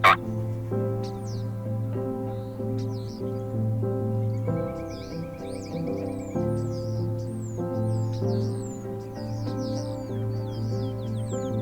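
Wild Rio Grande turkey gobbling in Texas hunting country, with several bird calls in the upper range over a steady, sustained harmonic drone that fills the whole stretch.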